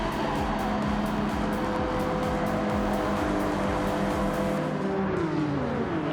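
Toyota Supra race car in the video game Gran Turismo 7, its engine holding a loud, steady high-speed whine with rhythmic pulsing, pitch dipping and shifting near the end as it lifts off.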